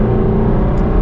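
A 2021 Jaguar F-Type R engine and transmission while short shifting, giving a steady, loud, low-pitched engine drone that holds throughout the second without a clear shift break.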